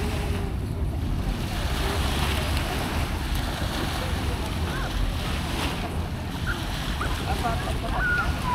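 Sea waves wash steadily at a Boracay beach on a clear day, a continuous surf rush mixed with wind buffeting the mic and no distinct individual breakers.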